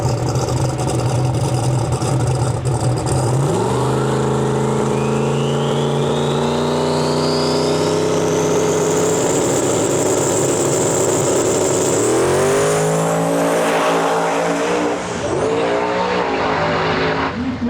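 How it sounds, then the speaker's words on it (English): Fox body Mustang making a solo drag-racing pass in qualifying at a drag racing nationals: a loud, close engine revs hard and climbs steadily through the gears, with sharp shifts near the end before the throttle lifts. "Got this beautiful Fox body Mustang, going for a solo rip right now"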